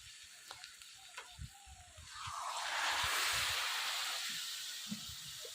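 Water poured into chicken keema frying in a pan, a loud rush of hissing sizzle that swells and then slowly fades, with soft clatters of stirring around it.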